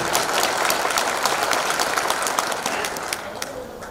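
A gathering of the Brahmjan Chetna Manch organisation breaks into loud, sustained applause from the audience, dense hand-claps running steadily for several seconds before easing slightly.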